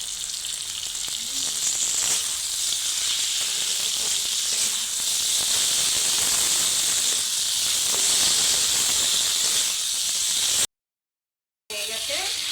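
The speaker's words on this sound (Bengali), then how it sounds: "এবার আমরা টমেটো দিয়ে দেবো। টমেটো কুচি দিয়ে দিলাম।" Chopped tomato in a spice masala fries in hot oil with a dense, loud, steady hiss and crackle that runs without a break, then cuts out briefly and resumes near the end.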